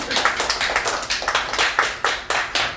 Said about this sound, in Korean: 박수 한번 펴주시죠.